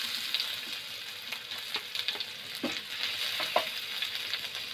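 Oil heating in a pan on a medium flame, a steady close sizzle and crackle with soft stirring scrapes now and then, with no voices.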